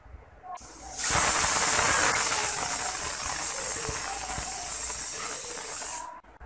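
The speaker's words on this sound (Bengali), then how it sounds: "এই পানি দিয়ে পানিতেই প্রথমে আমি চারটা সিটি দিয়ে মাংসটাকে সিদ্ধ করে নেব" A pressure cooker boiling beef lets off a loud, steady steam whistle that rises abruptly, holds as a continuous hiss for about five seconds, then cuts off.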